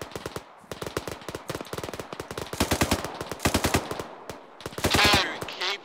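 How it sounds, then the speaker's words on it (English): Dense bursts of automatic gunfire in the military shooter game Arma 3, rapid rattling volleys that come in irregular clusters, loud and close, with the heaviest firing near the end. "Fire's coming in over our heads."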